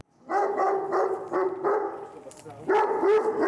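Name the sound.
dog barking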